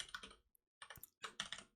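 Rapid typing on a computer keyboard in bursts of quick, close key clicks separated by short pauses, with no talking.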